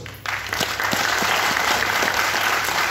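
An audience bursts into applause at a business seminar, dense clapping starting abruptly and holding steady and loud throughout.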